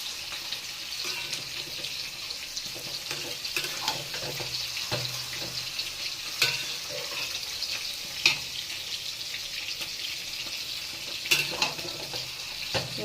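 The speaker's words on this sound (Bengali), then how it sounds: "ভালো করে চাল কুমড়োটা মিশিয়ে নিচ্ছি মশলার সাথে" Ash gourd pieces fry with spices in a pan for a shrimp ghonto, giving a steady, close sizzle broken by occasional scraping stirs and soft knocks of the spoon.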